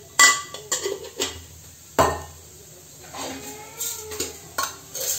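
Urad dal dropping into hot oil in a pan and being stirred, with irregular metallic scrapes and clinks of a spoon over a soft sizzle, close and moderately loud, without talk.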